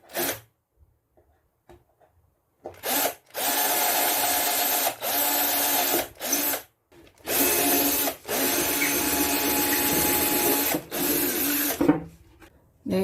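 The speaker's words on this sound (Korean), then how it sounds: "직소기를 사용하시든 또 직구리 톱을 사용하시든 톱날이 들어갈 구멍을 먼저 드릴로" A power drill whirs loudly in several bursts of a few seconds each, boring holes in wood, spinning up and stopping with brief pauses between.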